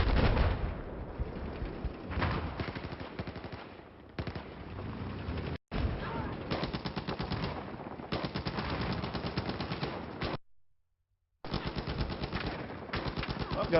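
Bursts of tank cannon fire and rapid coaxial heavy machine gun fire in a large-scale Battlefield video game battle, loud and sustained with brief gaps.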